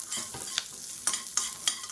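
Whole small onions fry in masala in a pan for pepper chicken, a soft steady sizzle broken by several sharp scraping strokes of a spoon stirring.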